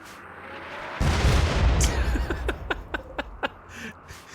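Six mortars firing in RimWorld during a breacher raid: a loud boom, then a run of sharp, evenly spaced launch thumps and pops, all without voices.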